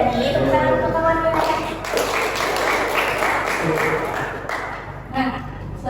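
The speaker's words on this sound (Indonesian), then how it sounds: "Terima kasih ya Dani, tepuk tangan untuk kawannya." A classroom of children claps, a steady patter of applause mixed with children's voices and chatter throughout.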